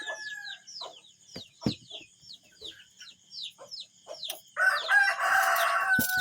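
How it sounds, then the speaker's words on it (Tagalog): A rooster crows loudly toward the end, following a series of short clucks and chirpy bird calls close by, with no talking. "Kasi ay yung manok."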